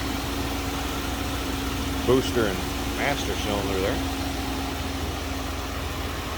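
The 307 5-liter engine of a 1983 Oldsmobile Delta 88 Royale sedan idles smoothly with a low, even hum under the open hood while someone talks over it.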